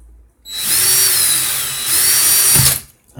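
A power drill twists coil wire for a three-coil vape atomizer build, spinning up with a loud high whine that holds for about two seconds, then cuts off sharply as the wire snaps.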